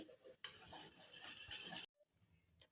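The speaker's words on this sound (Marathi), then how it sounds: "डाळ छान घोटून घ्यायची आहे" Scraping, stirring strokes of a utensil mashing thick cooked lentils for sambar in a metal pot, steady and close, then a brief pause with faint clinks.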